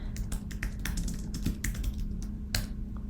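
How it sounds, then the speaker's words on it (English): Rapid keystrokes on a computer keyboard as a spreadsheet formula is typed, with irregular clicks in quick bursts, close and fairly quiet with no talking. "I'm typing a formula so you can see a little bit better"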